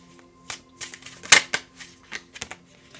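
Playing cards drop out of a deck in a quick, irregular patter of light slaps, one louder than the rest, close by.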